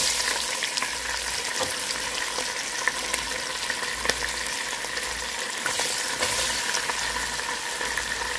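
Chopped onions frying in hot oil in a pot for Nigerian egusi stew, a steady loud sizzle and crackle, with occasional stirring taps and no talking.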